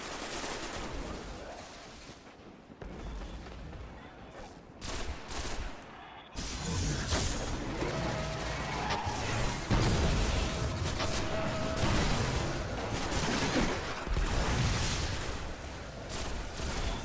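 Pump-action shotgun fire in the shooter game Destiny comes as repeated loud blasts and volleys over about seventeen seconds, dense and close, with a short quieter gap near the start.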